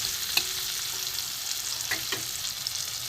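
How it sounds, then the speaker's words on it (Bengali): Onion and garlic frying in a little oil in a pan, a soft steady sizzle with a few brief spoon scrapes and taps. "পেঁয়াজ রসুনটা একটু ভালো করে কাঁচা গন্ধটা চলে যাওয়া ভালো করে ভেজে নেবো"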